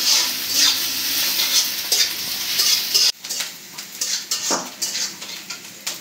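Onion and chili frying in a pan during village-style Bangla cooking, a steady sizzle mixed with clattering metal spatula strokes against the pan, with no voices.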